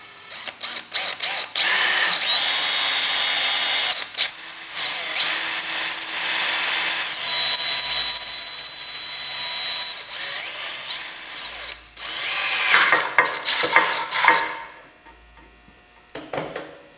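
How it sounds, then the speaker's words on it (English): A power drill bores a new hole for a shop light hook, whining loudly in several long bursts with short pauses between, then a few brief final spurts. "I drill a new hole"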